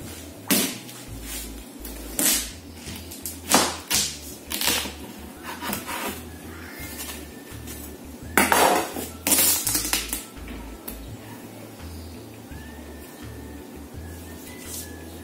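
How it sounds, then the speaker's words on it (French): A knife cuts through supermarket watermelons, producing several dull thudding chops and crunching slices in irregular bursts, close and fairly loud over a low steady background hum. "je vais donc découper nos pastèques"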